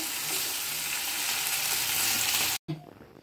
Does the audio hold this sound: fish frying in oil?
yes